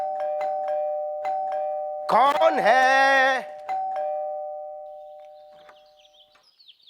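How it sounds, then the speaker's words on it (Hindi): A doorbell rings at a home door with a loud, sustained electronic chime lasting about a second and a half, set among sparse knocks and clicks, with a voice calling out from inside just after. "बेल बजा चल जल्दी"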